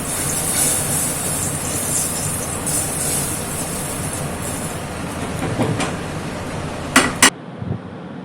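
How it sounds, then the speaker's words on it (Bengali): Hot spice tempering is poured into dalma lentils, giving a steady loud sizzle that runs throughout. A few metallic clinks of a utensil against the pot come near the end. "এবার এইটা ডালের মধ্যে ঢেলে দেবো, ফোড়নটা পুরোটা ডালে ঢেলে দেবো।"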